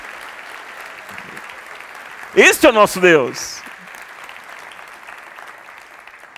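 Steady applause from a church congregation fills the clip, with someone speaking briefly in Portuguese over it in the middle.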